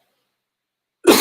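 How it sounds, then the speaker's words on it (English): A short, loud throat-clearing cough bursts out near the end after a long silence, close and alone. "That's why I cough and clear my throat all the time."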